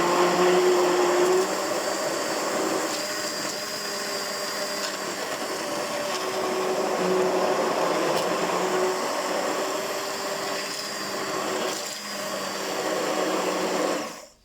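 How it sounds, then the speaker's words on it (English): An electric blender whirs steadily, mixing a spice sauce with mango chutney for a braai, a continuous moderate motor hum that keeps going for about fourteen seconds before cutting off abruptly. "just blend it all together"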